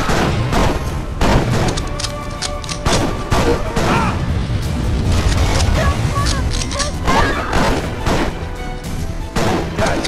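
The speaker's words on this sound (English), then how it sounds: "did it just let me shoot Alex square in the chest with my shotguns" Shotguns fire in the video game Tomb of the Dragon Emperor, several loud booming blasts in quick bursts over game noise, with voices talking under the action.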